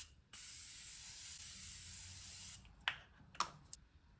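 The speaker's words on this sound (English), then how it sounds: "No look is complete without a little bit of setting spray." A steady hiss of Morphe Continuous Setting Mist makeup spray runs for a couple of seconds, close and soft, followed by a few light taps and clicks.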